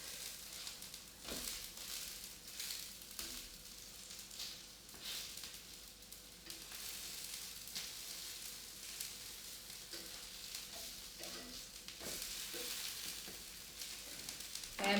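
Fritters frying in a pan, a steady broadband sizzle and crackle with occasional louder pops, close and continuous for the whole stretch with no voices.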